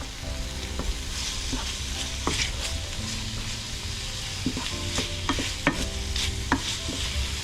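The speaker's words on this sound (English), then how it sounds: "Give that a good stir." A pumpkin trout dish seasoned with black pepper and salt sizzles in a hot pan while a utensil stirs it, with steady frying hiss and occasional scraping taps close by.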